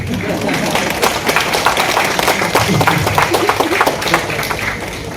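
Continuous applause from the audience at a Tamil Thirumanthiram recitation festival at SRM University, a dense, even roar of many hands with faint voices mixed in.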